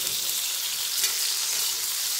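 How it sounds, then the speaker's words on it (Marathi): Steamed bitter gourd hits hot oil on a high flame and stir-fries with a loud, unbroken, close-up sizzle throughout. "तेलामध्ये लगेचच हे वाफून घेतलेलं कारले टाकायचं. गॅसची आच मोठी ठेवायची आणि परतत राहायचं."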